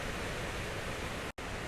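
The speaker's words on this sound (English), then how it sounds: "if you can hear noise in the background, it's the river that I'm stood next to." A river flowing after a storm, the Finch River, roars as a dense, steady wash of rushing water close by, unbroken except for a split-second dropout, with no voices.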